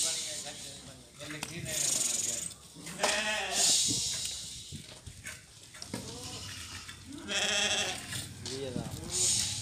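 Goats at a livestock market bleat repeatedly in loud, wavering cries, several calls overlapping close by while people talk throughout.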